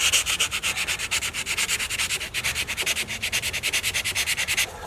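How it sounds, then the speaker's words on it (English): Rapid rhythmic sanding strokes scrub across gelcoat on a bass boat during a glitter spot repair, a steady close, loud back-and-forth rasp that stops abruptly near the end. "So let's get started sanding"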